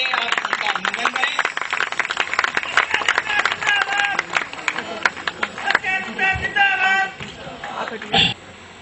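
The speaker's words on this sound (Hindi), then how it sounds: "जोरदार तालियों से आप उनका अभिनंदन करें" An audience at a scholarship distribution function applauds to welcome a speaker, sustained clapping that fills the room and fades out near the end, with a voice over a loudspeaker talking through it.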